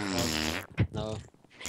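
A voice mimics a fart with a brief wet, buzzing blurt, bracketed by his own speech before and after.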